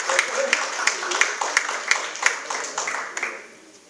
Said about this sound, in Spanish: recibámosla con un aplauso